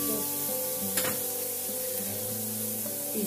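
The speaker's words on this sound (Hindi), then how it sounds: "बहुत अदरक लहसुन की ये फ्राई है" Ginger garlic paste fries in a pan with a steady close sizzle, with a brief scrape or stir near the start.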